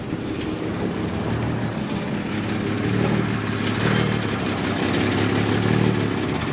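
A cold M715 Kaiser Jeep engine idles steadily, with a low rumbling hum and slight surges in level, running alone throughout.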